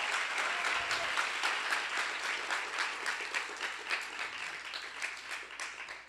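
Congregation at a church talk breaking into steady, sustained applause, many hands clapping together at a moderate distance and slowly tapering off.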